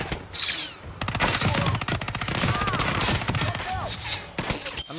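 Rapid automatic gunfire from the video game Hitman 3, a long, dense burst of close, loud shots with brief gaps near the start and end.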